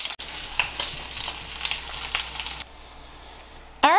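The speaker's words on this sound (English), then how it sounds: "sear the meat." Pork roast searing in canola oil, a steady close sizzle and crackle of frying meat that quietens abruptly partway through, then a brief clatter at the end.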